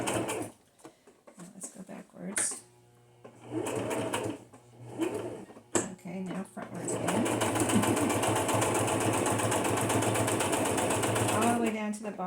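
A sewing machine stitches through paper for a junk journal, first in short back-stitch bursts separated by a voice talking, then running in one long steady whir to the end.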